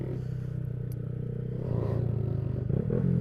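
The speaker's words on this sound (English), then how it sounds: "This motherfucker doing wheelies over here." A Honda Grom motorcycle engine drones nearby, swelling louder partway through as it is revved during wheelies, with some clatter.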